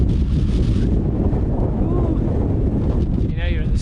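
Strong wind buffets the microphone at the summit of Pic Saint-Michel, a dense steady roar throughout, with brief speech near the end.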